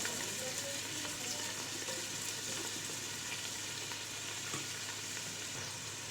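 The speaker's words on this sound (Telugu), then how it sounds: "సో చిల్లీస్ తర్వాత నేను యాడ్ చేస్తున్నాను ఆనియన్స్ అండి" Three large sliced onions sizzle and fry in a thick pot for chicken dum biryani, making a steady, dense hiss that continues unbroken throughout, with no speech.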